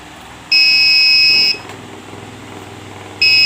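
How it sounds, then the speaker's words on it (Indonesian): An RFID door lock's electronic buzzer, triggered by a wrong card scan, sounds a loud long steady beep lasting about a second, falls silent, then starts again; a faint hum continues underneath. "buzzer akan berbunyi beep dan akan memunculkan LED lampu berwarna merah."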